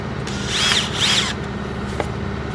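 A power drill drives screws through a panel of a VW Crafter / MAN TGE motorhome in two short, close whirring bursts, followed by a single sharp click.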